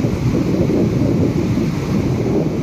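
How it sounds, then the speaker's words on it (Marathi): The Mor river flowing after heavy rain in the Satpura hills, a loud continuous roar of rushing water mixed with wind buffeting the microphone, steady throughout with no voices. "बघा सुंदर तिथे हे पाणी वाहत आहेत मोर नदी तालुका यावर।"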